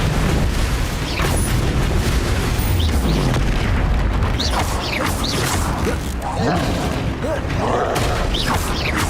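Spell effects in Hogwarts Legacy, including fire and explosive blasts, booming and crackling in a continuous loud barrage while a voice shouts spell names over them.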